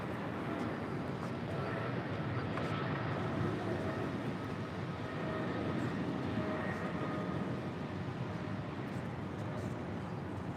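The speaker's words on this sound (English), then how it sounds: "This is DHL, operated by Singapore Airlines, Flight 7403, departing to Honolulu on a 777 freighter" A Boeing 777 freighter departing LAX carries a broad, steady jet roar that holds at a constant level for the whole stretch, with no talk over it.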